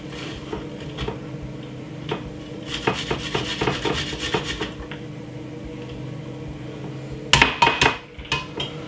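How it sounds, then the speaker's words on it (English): A large garlic clove is grated by hand in a kitchen, giving quiet, rhythmic rasping strokes in a cluster, followed near the end by a few sharp clinks and clatters of metal utensils. "I'm just grating it"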